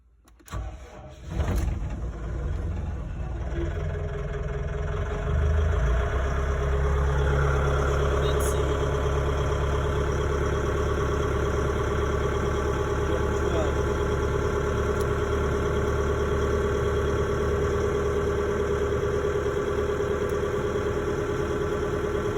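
A heavy equipment excavator engine cranks and catches after a second or two, then settles into a loud, steady diesel idle that carries on to the end, with a person's voice faintly at times.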